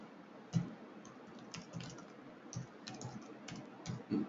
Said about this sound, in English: the way I'm typing it right now